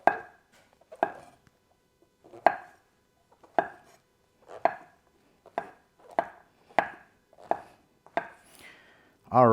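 A knife rough-chopping mushrooms on a cutting board, about a dozen crisp chops spaced in an uneven rhythm, close and fairly loud with short pauses between strokes.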